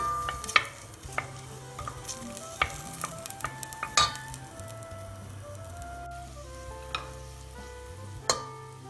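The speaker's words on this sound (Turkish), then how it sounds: "Onları şöyle zeytinyağıyla biraz çevirelim." Onions sizzle gently in olive oil in a pan, with scraping and clinks of a utensil stirring at irregular intervals and a faint hum underneath.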